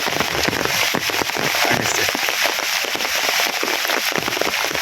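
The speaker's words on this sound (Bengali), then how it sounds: "বৃষ্টি আছে তবে তুলনামূলকভাবে কম" Steady, dense rain hisses and crackles loudly and evenly throughout, with no voices.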